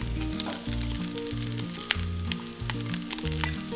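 Mashed potato is stirred into a frying Kerala beef cutlet filling in a pan, giving a steady close sizzle with rhythmic scraping strokes of the spoon.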